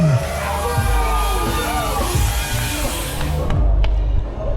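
A crowd buzzes at a Hyrox fitness race, a loud steady wash of cheering and shouting voices with music-like tones and a few thumps mixed in.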